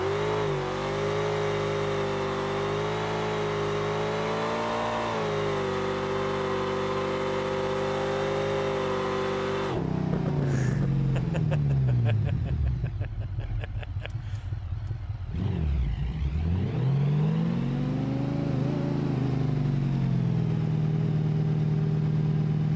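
A car engine in BeamNG holds a steady idle, then revs hard and launches, the pitch dipping and climbing through gear changes before settling back, loud and alone with no talk.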